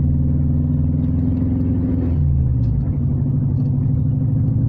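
A Subaru Impreza's engine drones steadily from inside the cabin while driving, a loud, boomy low rumble that holds constant with a slight shift in tone midway.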